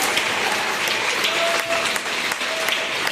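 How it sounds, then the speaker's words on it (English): A school rewards assembly audience claps for a class, a full, continuous wash of applause filling the room at steady loudness, with faint voices mixed in. "Let's give Ms. Behan's class a big round of applause."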